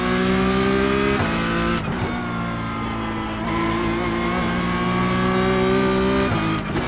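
A Porsche 911 GT3 (992) race car engine in iRacing at the Nurburgring holds a loud, steady high-revving note, dipping briefly with quick gear shifts before climbing again, with no talking.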